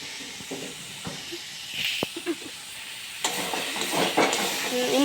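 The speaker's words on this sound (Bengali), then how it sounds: "এ দেখুন এইভাবে নাড়িয়ে নেবেন।" Spiced fried soybean chunks and potato get stirred in a hot pan: a continuous hiss and sizzle with scraping stirs and occasional clinks, louder in the second half.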